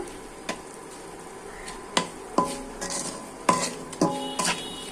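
Chili, turmeric, coriander and cumin powders being sautéed in a pan: a low background sizzle with a handful of sharp metallic spoon clinks and scrapes against the pan, spaced irregularly.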